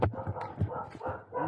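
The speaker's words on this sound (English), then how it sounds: "Oh, dog." A dog barks a few times nearby during a food delivery drop-off at a house door, short and fairly close, with no clear talk over it.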